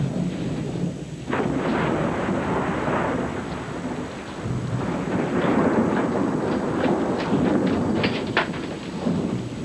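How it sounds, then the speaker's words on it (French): Heavy thunderstorm in a French feature film, a continuous loud roll of thunder with rumbling surges over steady rain, heard alone without voices. "Il a peur du tonnerre."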